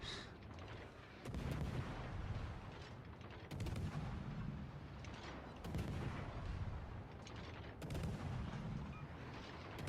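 Secondary guns of a warship firing in World of Warships: Legends, a naval battle game: repeated booming salvos about every two seconds over a steady roar of engine and sea noise, fairly distant and muffled, with no talk.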